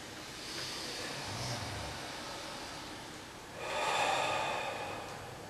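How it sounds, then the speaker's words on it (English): Slow, deep breathing during a meditative power-spell recitation: a long airy inhale followed by a louder, rushing exhale, close and breathy with no talking. "Breathe."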